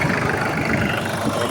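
A Kubota KL25 mini tractor's 25-horsepower engine idles smoothly up close, a steady even mid-pitched rumble with no smoke or breather trouble noted.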